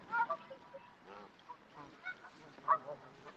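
Geese or swans at a park in winter give a few scattered, faint honks and calls at a middle distance, with quiet gaps between them and no talk.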